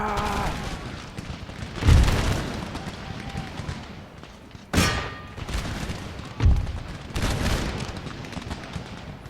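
Musket volleys crack out in the Empire Total War video game, three loud, booming rolls of fire a couple of seconds apart over a constant battlefield rumble.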